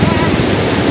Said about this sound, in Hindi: पानी का बहाव काफ़ी तेज है।